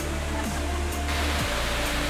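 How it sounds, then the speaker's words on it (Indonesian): Lokowine waterfall in Southwest Sumba pours heavily with a steady, dense roar that fills the whole space, close and loud with no break. "Air terjun mengalir sangat deras sehingga pengunjung yang berada di sekitar situ dapat merasakan uap dan percikan air terjun"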